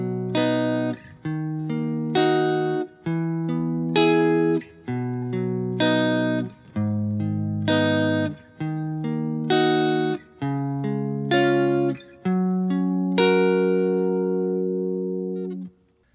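An acoustic guitar plays the chords of a song with a steady picking pattern, sounding clear, close and alone as picked notes ring in repeating phrases for about sixteen seconds.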